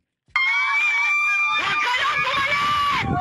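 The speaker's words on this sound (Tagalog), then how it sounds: "si Lacuna, yung sigaw niya, at saka yung sigaw ng mga taga-Maynila" A crowd of Manila residents shouting together, a loud, continuous wall of raised voices that bursts in suddenly and holds for about three seconds.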